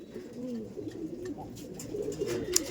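Racing pigeons coo softly in a loft, a steady low murmur of several birds with occasional faint chirps, fairly close and continuous.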